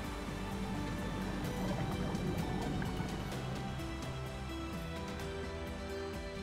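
Broad, steady rush of water released from a weir wall into the Goulburn River near Eildon, a dense continuous roar with splashing texture that stays constant throughout.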